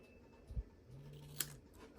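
Slightly sticky scissors cut a small angle into cardstock for a Christmas quilt card, a couple of short, quiet snips close by in an otherwise hushed room.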